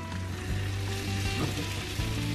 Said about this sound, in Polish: Omleciki będę smażyć na tej samej patelni, nie myłam jej, bo tutaj też dodałam olej sezamowy.